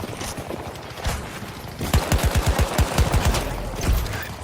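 A VCAR rifle fires from the hip in a shooter game, a few scattered shots followed by a rapid run of roughly a dozen sharp, close reports.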